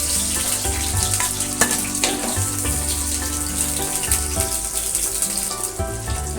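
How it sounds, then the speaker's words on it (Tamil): Onions frying in hot oil in a clay pot for fish curry, a constant loud hiss and sizzle with running-water-like texture and a few sharp crackles, heard alone with no talk. "இது எண்ணெய் காஞ்சதுக்கப்புறம் வெங்காயம் போட்டுங்க."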